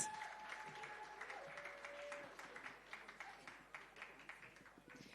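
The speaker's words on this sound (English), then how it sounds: "Ladies and gentlemen, let's give them another massive round of applause." An audience claps in a loose, thinning round of applause, with a tonal whine at the start and individual claps becoming more distinct toward the end; moderately distant.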